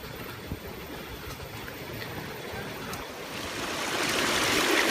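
Abundant stream water flowing past vegetable plots and rice fields in a village, a steady broadband rush that grows louder toward the end, with no voices.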